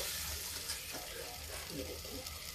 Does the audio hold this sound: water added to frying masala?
yes